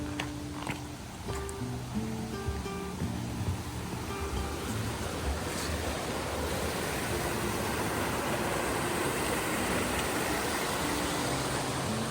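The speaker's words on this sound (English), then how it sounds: "The little brook along there is awesome." A small brook flowing beside a hiking trail in the Adirondack High Peaks, a steady wash of running water that builds into a continuous hiss, with some brief tonal sounds early on and no speech.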